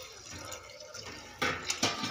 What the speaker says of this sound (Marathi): त्याच्यामध्ये आपण एक ग्लास पाणी घालणार आहोत